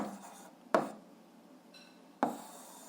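A pen writes a math fraction by hand for an 8th-grade algebra exercise, a soft scratchy stroke with two sharper taps of the pen on paper, close and quiet with no talking.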